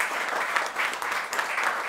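Audience applause following a speaker at a Korian Foundation panel event, steady dense clapping that stays loud and even throughout, with no voices over it.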